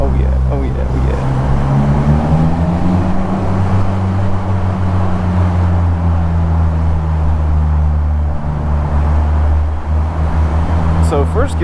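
A Polaris Slingshot is driven in second gear through a canyon area of Zion National Park, Utah. Its engine drones steadily, close and loud, with a gradual pitch rise and a constant low rumble under wind noise. A voice speaks briefly near the end.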